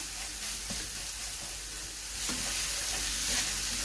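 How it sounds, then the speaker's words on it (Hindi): A semolina halwa mixture roasts on a low flame, with a soft steady sizzle and a few light spoon scrapes as it is stirred. "बस अब हम इसको 10 मिनट तक इसको भूनेंगे"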